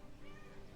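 A domestic cat meows once, a short close call set against a steady background hum with nothing else standing out.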